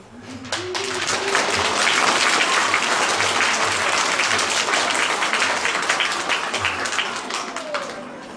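An audience applauds a reader after a reading in a classroom setting, a dense, steady wash of many hands clapping that swells quickly and holds for several seconds before easing slightly.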